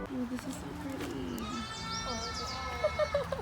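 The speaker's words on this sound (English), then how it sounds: "We're getting to hang out with some goats. Like the goat farm." Goats at a goat farm bleat repeatedly at close range, their wavering calls overlapping amid outdoor ambience and faint voices.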